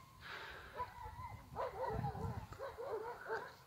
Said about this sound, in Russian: Собаки орут, и не пройдешь, и не выйдешь